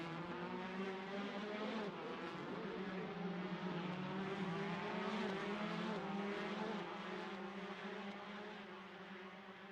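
Several race cars roar around the Spa circuit in a racing video game, a dense, steady engine drone with shifting pitch and occasional tire noise, loud and continuous throughout.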